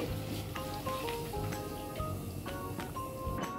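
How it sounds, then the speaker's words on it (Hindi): Makhana (fox nuts) frying in hot oil for a Navratri vrat dish, a steady close sizzle with scattered crackles and pops running throughout, no talking. "अब हम मखानों को फ्राई कर लेते हैं"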